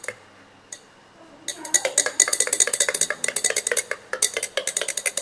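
A utensil mixes drops into homemade body lotion in a small container, with rapid clicking and tapping strokes that start after a couple of isolated taps and a quiet pause, then run in a quick, even rhythm.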